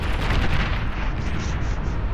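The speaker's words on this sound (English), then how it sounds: "that was the explosion I needed." Explosion in the real-time strategy game Beyond All Reason, a dense continuous rumbling boom with crackling debris filling the whole moment, loud and sustained with no pause.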